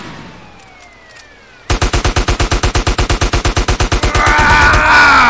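Rapid automatic gunfire in GTA San Andreas, a loud steady burst of about twenty evenly spaced shots that gives way to a continuous roar of firing, with no talking.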